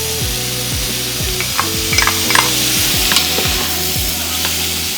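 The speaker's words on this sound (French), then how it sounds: "On va rajouter des lardons." Lardons tossed into a frying pan with sweated aromatic vegetables and stirred, giving a steady close sizzle with repeated scraping strokes of a utensil against the pan.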